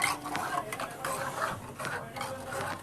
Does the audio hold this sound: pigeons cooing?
no